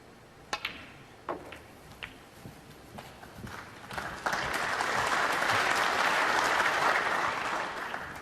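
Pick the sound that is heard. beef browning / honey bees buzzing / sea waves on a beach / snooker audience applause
snooker audience applause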